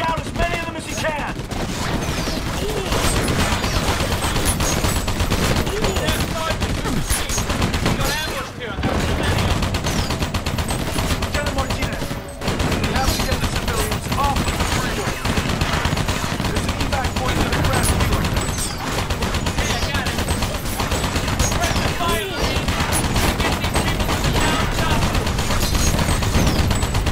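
Sustained Humvee turret machine gun fire in Battle: Los Angeles, dense and loud, with long bursts broken by a few brief pauses, layered with battle noise and shouted voices.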